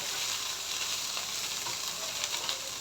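Small moliya fish fry in hot oil in a wok, a loud continuous bright sizzle with crackling spits, close and unbroken throughout.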